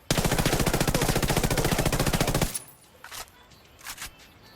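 Rapid automatic fire from a suppressed Mk18 rifle in a shooter game, a steady close burst of evenly spaced shots lasting a couple of seconds, then cutting off to a quiet tail with a few faint clicks.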